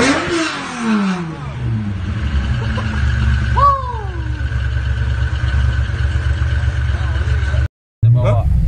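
Engine of a Starroad-built car running near-steady, a loud low drone with a brief rev rise and fall midway, heard close with a short dropout near the end; no words spoken.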